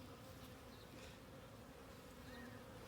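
Honeybees buzzing around an open package beehive during an inspection of pre-drawn comb with syrup in the cells, a close, continuous droning hum of many bees with no talk over it.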